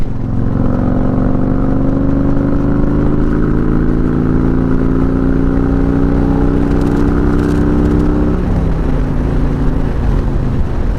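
A motorcycle engine revs and accelerates hard while overtaking, pitch climbing steadily before dropping with a gear change, loud and close, with wind rush.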